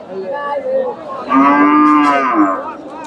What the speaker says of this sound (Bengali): এগুলা খামার উপযোগী ষাঁড়।